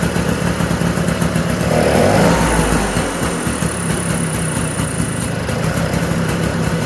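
A 1979 Vespa P200E Piaggio scooter engine, freshly rebuilt after seizing, runs continuously up close with a steady, slightly uneven buzzing rumble that struggles to settle into an idle.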